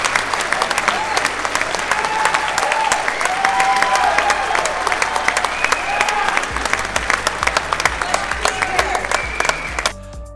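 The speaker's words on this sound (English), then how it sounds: "Lauren Southern entered the stage to rapturous applause" Audience applauding as Lauren Southern walks onto the stage at a Melbourne event, a dense, sustained roar of clapping from a large crowd that holds steady for about ten seconds before thinning at the end.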